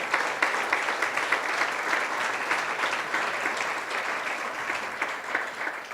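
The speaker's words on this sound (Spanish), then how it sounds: "Dele fuerte ese aplauso al Rey." Church congregation applauding, a dense steady roar of many hands clapping continuously at close range with no talking.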